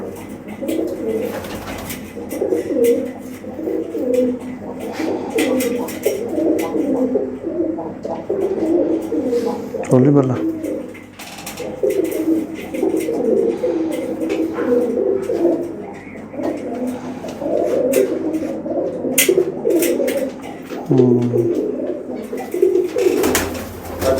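Pigeons in a loft coo steadily in overlapping throaty calls nearby, with occasional wing flutters, while someone talks briefly in Punjabi over them.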